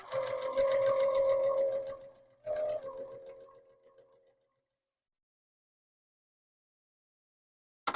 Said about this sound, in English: now I'm sewing 1/4 inch in the other direction